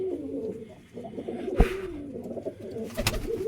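Pigeons coo in their coops, low throaty rolling calls repeating close by, broken by a couple of sharp knocks or flutters in between.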